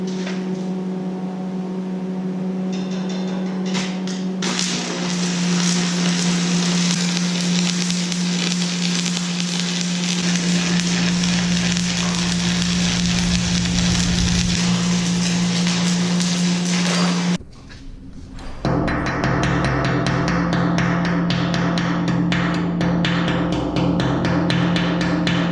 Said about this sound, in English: Okay, I'm gonna go ahead and put a weld right here, fix that up.